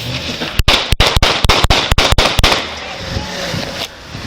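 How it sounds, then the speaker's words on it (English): A police officer fires a rapid string of about ten loud, sharp gunshots at a driver during a traffic stop, close and echoing, and the shots are followed by a steady background hum. "Shots fired. Shots fired."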